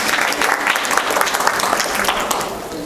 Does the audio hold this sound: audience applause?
yes